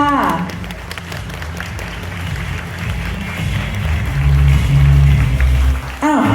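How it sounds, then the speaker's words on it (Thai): An audience at the Midea Convention 2024 in Thailand applauds to welcome a new presenter: sustained crowd clapping runs throughout at a steady, fairly loud level, with music and amplified voices underneath. "ขอเสียงปรบมือด้วยค่ะ"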